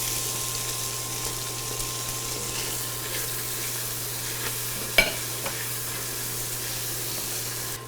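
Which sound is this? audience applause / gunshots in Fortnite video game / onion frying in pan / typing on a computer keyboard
onion frying in pan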